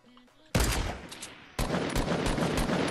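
Gunfire in Fortnite, two sudden loud bursts of rapid shots in quick succession after a quiet start, dense and close.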